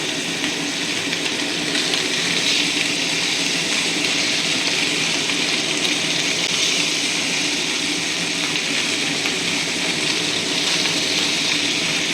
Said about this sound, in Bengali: ফ্রাই প্যান গরম হয়েছে এবার মাছটা দিয়ে দিলাম